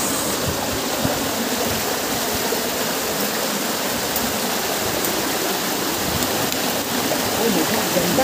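A waterfall pours steadily in a cool outdoor spot with cold water, a continuous broadband rush of falling water filling the scene from start to finish, loud and unbroken.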